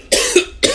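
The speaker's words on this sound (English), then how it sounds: "And I have to cough again." Two close coughs from someone talking to camera, a long harsh burst followed by a shorter one, loud and near with no speech around them.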